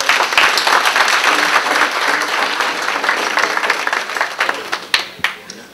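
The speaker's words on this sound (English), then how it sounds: "I want all of us to give them a big round of applause." An audience gives a loud, sustained round of applause for executives present at an event, dense clapping filling the whole stretch and thinning slightly toward the end.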